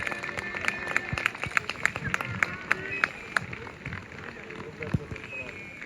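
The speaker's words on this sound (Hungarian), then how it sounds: "Nagy tapsot a gyerekeknek!" Audience clapping for children at a Hédervár KSE sports club award ceremony: sharp, fairly regular claps, moderately quiet, over a steady background murmur.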